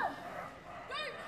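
A dog gives a short, excited yip-like bark in a Crufts agility championship arena, the bark rising briefly over a faint, murmuring crowd in a large indoor hall.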